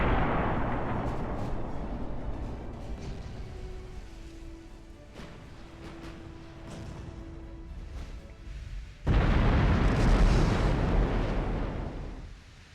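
Naval artillery booms from 1906-era warships in the naval strategy game Ultimate Admiral Dreadnoughts, a deep rolling blast that slowly fades, followed later by a second heavy, sudden salvo.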